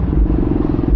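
A Vespa GTV 300cc scooter engine gives a loud, close, low rumbling drone with a steady throbbing pulse.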